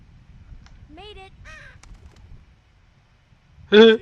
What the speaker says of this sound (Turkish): Aha karga.